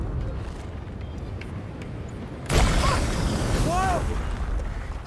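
A cannon fires Greek fire in A Plague Tale Requiem, a sudden loud blast followed by a sustained roaring rush. A voice exclaims briefly just as it goes off.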